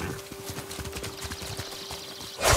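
Horse hooves clip-clop in a steady, rhythmic gallop in Ghost of Tsushima Director's Cut on PS5. The hoofbeats are loud and close over a sustained in-game tone, ending in a brighter rush of noise.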